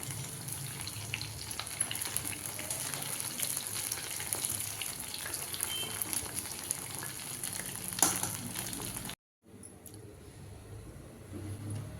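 Soya chunks deep frying in hot oil for soya 65, a steady close bubbling sizzle that runs continuously, broken by a brief silent gap before the frying resumes.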